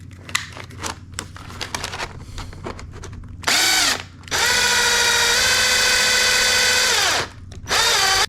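A power drill bores a hole into a Gibson SG guitar body: light handling clicks first, then a loud, close, high whining drill in three bursts, one short, one long and steady, then a final brief run.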